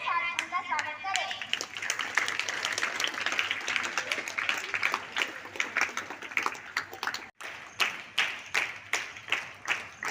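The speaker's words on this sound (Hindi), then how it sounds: "आप सभी तालियों की गड़गड़ाहट के साथ उनका स्वागत करें।" A school audience at a World Smile Day assembly applauds to welcome the principal, with sustained clapping from many hands that thins into scattered separate claps near the end, while voices talk underneath.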